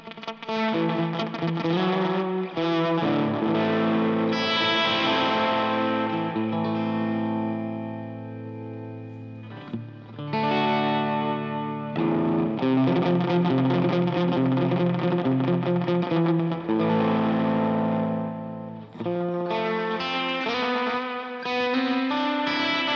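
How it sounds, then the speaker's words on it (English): An electric guitar runs through a tape echo delay, its gritty, distorted chords and notes trailing into smeared repeats. Phrases ring out loud and sustained, with brief pauses between them and no talking. "So this is what we are getting from a tape delay."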